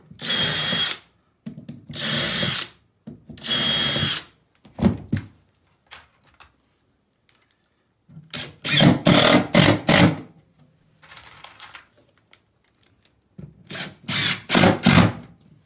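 A power drill drives screws into a refitted chipboard floor, loud close bursts of whirring with a thunk as each screw seats, three runs, then pauses and more rapid bursts near the end, no talking.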